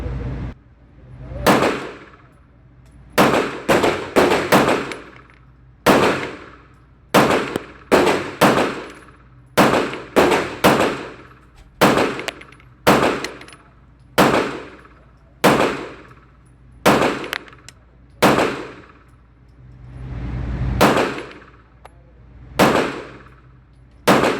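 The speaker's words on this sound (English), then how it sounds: "we're going to shoot 20 rounds on the bottom right, and then we're going to shoot 10 plus rounds in the middle" A Staccato P pistol fires rounds at a target on a range during break-in, about two dozen sharp, loud shots in uneven clusters with short pauses between strings.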